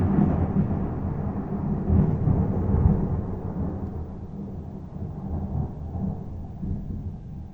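Dry thunder rolls through the night over Zaporizhzhia with no rain, a deep low rumble that swells and fades over several seconds, distant but heavy, with no voices.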